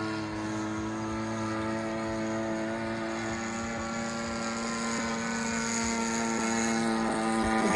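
A Great Planes Giant Avistar RC airplane with a 30cc engine cruises just above half throttle, giving a steady, droning engine whine with a strong, even pitch that swells slightly louder toward the end.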